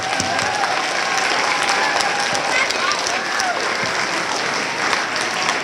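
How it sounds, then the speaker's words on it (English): Audience applause for faculty and staff at a school Memorial Day concert, a loud, dense and sustained wash of many hands clapping from start to finish, with some voices mixed in. "A round of applause for them."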